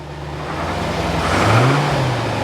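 Engine of a C4 Corvette ZR-1, newly repaired after an engine computer fault, revving steadily with a smooth continuous hum that swells briefly midway into a rising rev before settling back.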